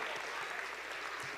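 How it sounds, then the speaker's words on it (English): Gala auction audience applauding a winning bid, a brief dense burst of clapping that fills the room under faint background voices. "Let's give her a round of applause."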